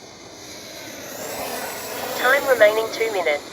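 An FMS 64mm F/A-18 Hornet RC jet's electric ducted fan whines at a steady pitch in the distance, growing slightly louder, as a voice speaks over the last second.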